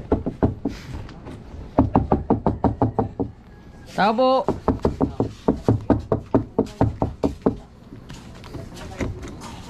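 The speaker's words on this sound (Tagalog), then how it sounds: "Kumakatok pa rin ako." Rapid knocking on a door, many firm evenly spaced raps in several bursts, close and loud, with a voice calling out in the middle and a brief creak partway through.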